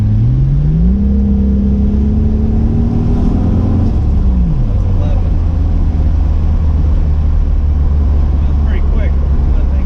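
A Toyota Supra engine pulls hard on a boost run, its loud drone rising in pitch over about four seconds, then dropping back to a steady low cruising roar with wind and road noise.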